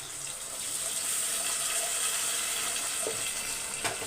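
Lentil water pouring steadily into a hot pan of sautéed ingredients for sambar, a soft continuous splashing hiss with a faint sizzle underneath, close and uninterrupted.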